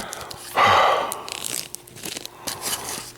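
Plastic bags rustle and crinkle up close in a garage workshop, with a loud burst of crinkling early on followed by quieter intermittent handling sounds.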